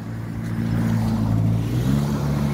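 Cars idling and moving slowly on a pedestrian street, a close, steady engine rumble that swells a little as one vehicle creeps forward, with no talk over it.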